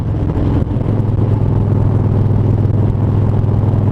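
A new motorcycle's engine runs loud and close as a deep, rough rumble with an uneven, faltering pulse, as if the fuel is running low. It continues throughout with a brief dip early on and no talking.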